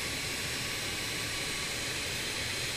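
An airliner engine spools up in a flight simulator game, a loud steady broadband roar and hiss with a high whine held for the whole short stretch.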